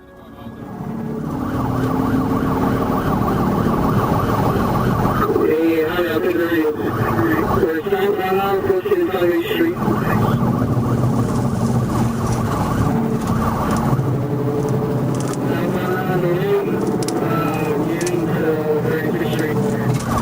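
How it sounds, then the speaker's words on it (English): A Florida Highway Patrol car chasing a fleeing driver down SR 826 blares its siren continuously, loud and near, over road and engine noise, with people talking throughout. "Florida Highway Patrol caught up with Melina, kicking off a high-speed chase down SR 826"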